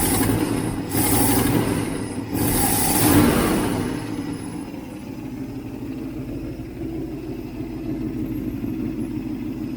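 Rebuilt 390 V8 in a 1967 Mustang with an exhaust leak, revved in a few loud bursts and then settling into a steady, rumbling idle nearby.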